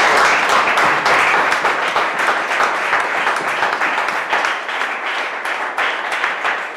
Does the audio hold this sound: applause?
yes